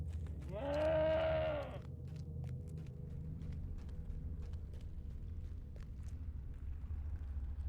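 A goat mount bleats once in the video game Lord of the Rings Online, a loud, drawn-out bleat lasting about a second near the start over a steady low game ambience.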